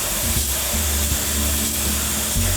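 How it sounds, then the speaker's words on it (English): Closed-cell spray foam insulation being sprayed inside a house under renovation, a continuous loud hiss broken by short low pulses as the spray gun starts and stops. "Now we're spray foaming, and that makes me happy."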